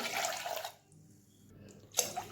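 Water is poured onto dal and rice in a pot, with a short splashing pour, a brief lull, then another burst of splashing close by.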